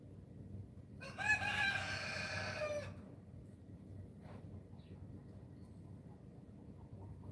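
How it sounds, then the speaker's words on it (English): A rooster outside crows once, a loud stretched call of about two seconds heard at a middle distance, then fades into a low, steady outdoor rumble with no talking. "I hear the chickens out there squawking."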